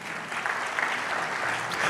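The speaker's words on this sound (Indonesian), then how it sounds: "Tepuk tanganmu bisa lebih semangat dari ini." Church congregation applauding during a sermon, a brief, steady wash of many hands clapping at moderate distance, alone without talk.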